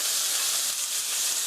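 Chopped onion, garlic and paprika stir-frying in a hot pan for fettuccine alfredo, a steady, close hiss of sizzling that holds evenly throughout with no voices.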